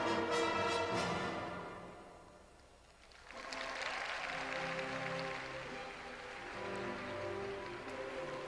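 A figure skating arena crowd claps in a broad, steady wash of applause that swells after a brief lull, sounding distant and diffuse behind fading music.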